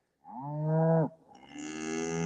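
Cattle on a farm low on a chilly morning, two long harmonic moos in a row, the first deep and swelling, the second higher and drawn out, close and clear with no talking.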